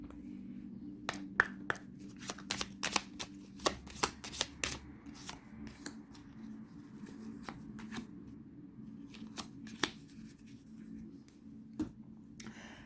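Tarot cards being shuffled and drawn close up, with a series of sharp riffling snaps and taps, then quieter sliding and placing of cards, faint and with no talking.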